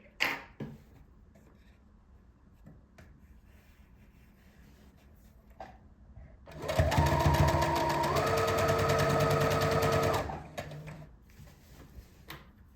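A sewing machine stitches a pencil skirt waistband in one steady burst of about four seconds, a fast mechanical whir with a pitch shift midway, near and clear, preceded and followed by quiet handling clicks.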